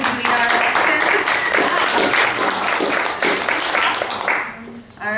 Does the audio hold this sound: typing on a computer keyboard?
no